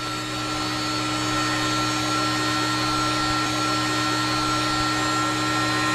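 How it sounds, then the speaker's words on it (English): A reversed vacuum pump on a buoy-recovery boat pumps air into lift ballast tanks, producing a loud, steady mechanical hum and whine with constant tonal drone and no change in level throughout. "this is a vacuum pump. Right now what it's doing, it's reversed and it's pumping air inside the lift ballast tanks"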